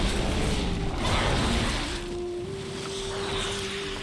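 Rushing water from a waterfall in World of Warcraft's Thaldraszus, a steady broadband roar at moderate level with a faint sustained tone running over it and no voices.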